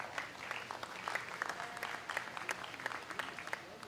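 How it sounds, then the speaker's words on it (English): Applause from the audience at a county fair 4-H/FFA livestock show ring, a steady moderate patter of many hands clapping for several seconds, slightly distant. "let's give these guys a big round of applause."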